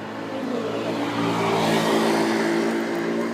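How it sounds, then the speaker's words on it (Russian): A city bus pulling up to a stop, its mid-range engine note rising and swelling as it draws near, loud and close, with no talk over it. "Это какой автобус идет?"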